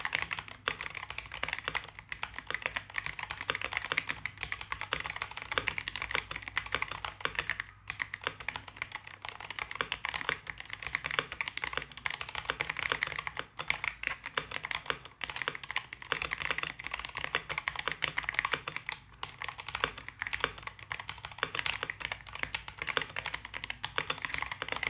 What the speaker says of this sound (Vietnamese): như các bạn đã nghe thấy thì tiếng gõ của nó nghe rất là đã tai